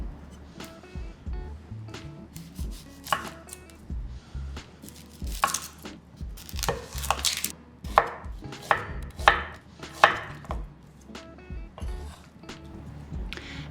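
Onion being chopped on a board for a stir-fry, a run of sharp knife strikes, sometimes slow, sometimes in quick bursts, close up with no talking.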